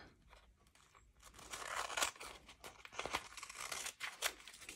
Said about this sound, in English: let's cut that excess off